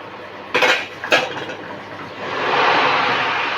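The metal lid of a pressure cooker full of cooked dal is opened: two sharp metallic clanks, then a soft, steady rushing noise as the pot is uncovered.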